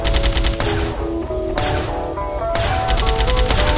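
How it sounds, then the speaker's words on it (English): Rapid, sustained gunfire from the side-scrolling shooter game Intrusion 2, loud and continuous with brief dips, mixed with game music and effects and no talking. "I'm just gonna frickin' shoot it"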